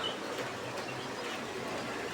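Quail kept on a small breeding farm call softly among constant background hiss and murmur, faint and hard to pick out individually.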